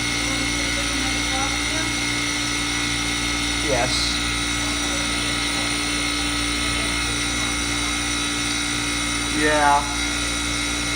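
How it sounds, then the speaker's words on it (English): A Manitowoc ice machine runs loudly in a commercial kitchen, giving a steady mechanical drone with a constant whine that continues throughout, while brief short remarks are spoken over it. "Makes a lot of noise, right? Pretty soon the ice is gonna drop."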